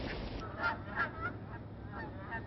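Migrating geese honk from a flock passing over a wildlife refuge in Maryland, a few distinct calls rising at irregular moments over a steady wash of background noise.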